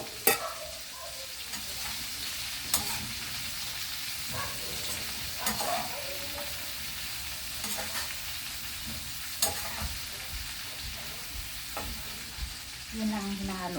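A home-cooked dinner dish frying in a pan while being stirred, with a steady sizzle throughout and repeated scraping strokes at irregular intervals, close up and with no talking.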